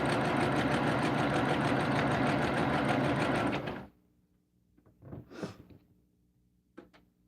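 A home sewing machine runs steadily and loudly while stitching borders on a jelly roll quilt, then stops abruptly, leaving faint handling noises and a couple of soft taps.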